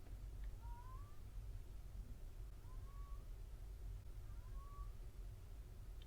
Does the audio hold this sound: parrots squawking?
no